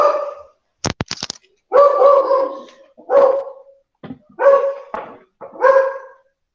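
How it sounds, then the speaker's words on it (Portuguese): A small deaf pet dog indoors barks loudly and close in a series of sharp, separate yaps, first a quick cluster and then evenly spaced barks with short pauses between them. "Deixa eu só pedir para minha cachorrinha educadamente parar de latir."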